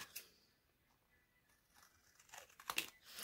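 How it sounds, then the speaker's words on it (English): Scissors cutting through a paper napkin, faint crinkling and soft snips that build into louder crisp cuts and rustles toward the end. "I'm going to cut this off"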